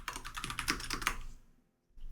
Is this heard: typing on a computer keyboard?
yes